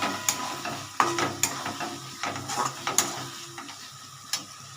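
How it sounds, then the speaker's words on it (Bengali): Shredded cabbage going into a pan with rohu fish heads, frying with a steady sizzle while a spoon scrapes and stirs, giving repeated close knocks and clinks over the hiss, with no voices. "এইবার আমি এটার মধ্যে বাঁধাকপিগুলো দিয়ে দেবো।"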